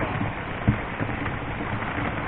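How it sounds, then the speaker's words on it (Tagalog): Heavy rain falls steadily during a typhoon flood, a dense continuous hiss with one brief low thump partway through, no voices. "Yung ulan hindi talaga humihinto o hindi humihina."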